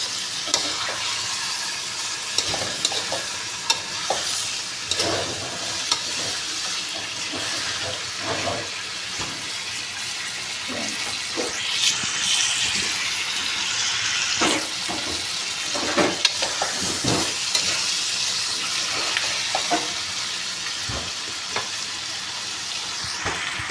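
A pink salmon head sautéed in a pan for sinigang gives off a loud, continuous sizzle and hiss, with repeated scrapes and knocks of stirring throughout, close up with no talking.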